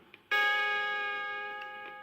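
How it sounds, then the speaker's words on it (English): A single bright, bell-like chime rings out on a Strawberry Shortcake read-along book record to signal a page turn, striking sharply and then fading slowly in a quiet room. "Every time you hear this chime,"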